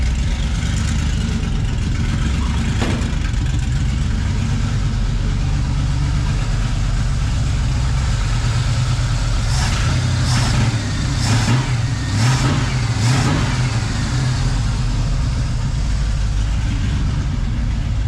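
An abandoned 1968 Plymouth Satellite's engine runs loud and close, rumbling steadily at idle with several quick revs in the middle, and no talking.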